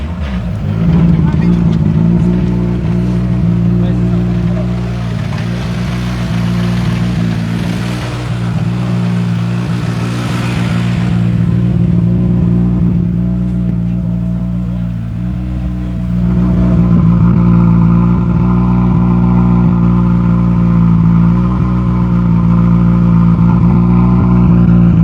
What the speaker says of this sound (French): Vous avez vu comme ça ronronne bien? Ça ronronne bien ces autos.